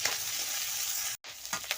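Singhi fish sizzling in hot oil in a pan, a steady bright crackle throughout with a brief dropout near the middle and a few louder pops after.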